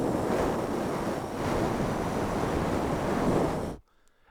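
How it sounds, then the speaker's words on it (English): Ocean waves serve as a sleep sound, a dense, steady wash of surf noise with gentle swells that continues evenly for nearly four seconds and then stops abruptly. "I could be the ocean."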